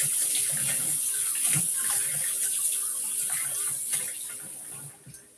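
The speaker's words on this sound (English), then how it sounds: "I need to wash this knuckle" Tap water runs steadily into a sink while a pork knuckle is washed, a close continuous splashing stream with small bumps of handling, easing off at the very end.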